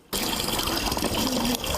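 Clean water gushes into a large tank near a dam in a flooded village, starting abruptly and pouring in a steady, loud, close rush with a brief dip near the end.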